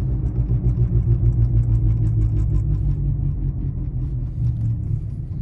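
A Mercedes-Benz CL550 with a bad wheel bearing produces a deep, continuous rumble and drone inside the cabin while driving, steady and loud with a low hum and no talking.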